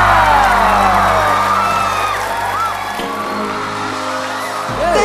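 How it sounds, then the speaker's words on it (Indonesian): Studio audience at a boyband battle on a live Indonesian comedy variety show whoops and cheers loudly and continuously, a steady crowd roar with shouts rising above it. "kita berikan tepuk tangan"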